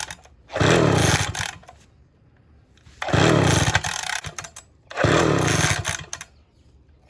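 A vintage Homelite 360 chainsaw, flooded with fuel, roars to life three times in short loud bursts, each lasting about a second or more with quiet gaps between.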